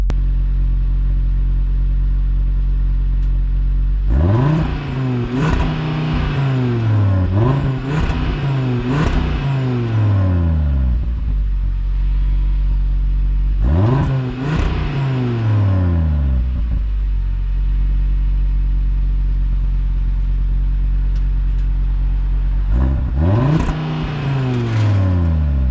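An Audi RS3 engine revs hard in three separate bursts, each climbing sharply then dropping back to a deep idle rumble, loud and close.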